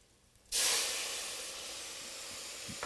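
Mirepoix hits a hot pot with a sudden loud hiss that settles into a steady, bright sizzle, close and alone.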